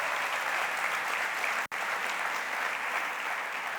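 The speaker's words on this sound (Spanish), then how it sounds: "Si va a aplaudir, aplauda al Señor esta mañana." A church congregation applauds during a Spanish-language service. The clapping is full and continuous with an even wash of hands, broken only by a split-second dropout midway.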